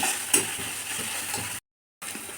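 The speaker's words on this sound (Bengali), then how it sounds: "এবার এটা তেলের সাথে ভালো করে ভাজা ভাজা করে দেবো।" Chopped onion and green chilli frying in hot oil give a steady, close sizzling hiss with faint stirring knocks, briefly cut to silence before the sizzle resumes.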